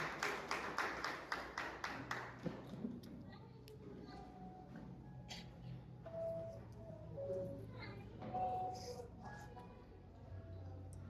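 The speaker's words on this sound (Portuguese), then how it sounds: "Pode aplaudir ao Senhor bem forte, se sentar." Church congregation clapping in a quick, steady rhythm for a couple of seconds, then the applause fades into a room murmur with scattered taps and faint voices.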